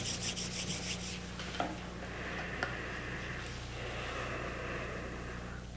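Hands rub together palm to palm in a quiet indoor space, a soft steady dry friction sound that continues for several seconds with faint background hum.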